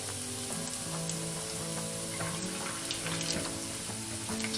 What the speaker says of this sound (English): Now these are going to cook up really quickly in the oil.